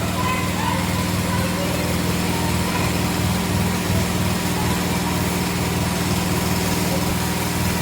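A small petrol pressure washer engine runs at a steady idle-like drone throughout, loud and continuous, with people talking faintly over it.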